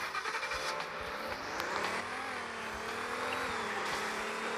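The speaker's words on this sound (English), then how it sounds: "Let's go over here with the monster truck." A monster truck drives in the Roblox game Car Crushers 2, its engine a steady, close droning rumble that rises slightly in pitch as it pulls away, with no talking over it.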